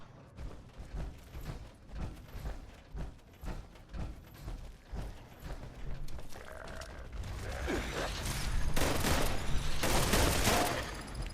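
Gunfire in Fallout 76 during co-op play, a run of rhythmic shots giving way to denser, louder bursts and mechanical clatter that build toward the end.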